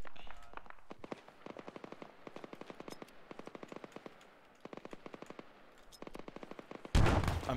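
Rapid automatic gunfire in a Call of Duty match, long crackling bursts of closely spaced shots repeating throughout, then a louder, denser blast near the end, with brief voices mixed in.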